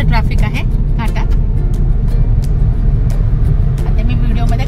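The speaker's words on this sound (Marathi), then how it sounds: "भरपूर असं ट्रॅफिक आहे घाटात" A car drives through heavy traffic on the rain-wet Khambatki ghat road, a steady, close low rumble filling the whole stretch while someone talks over it.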